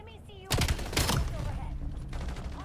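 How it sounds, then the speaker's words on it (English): Rapid gunfire from a multiplayer shooter video game crackles in short bursts, loud and close, with a speaker talking over the shots. "Why are you shooting me?"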